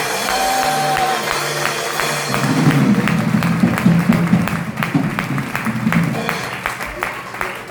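A church congregation claps and cheers together while voices sing and talk over it, with dense, lively applause building in the middle and fading slightly toward the end.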